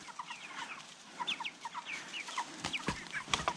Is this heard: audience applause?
no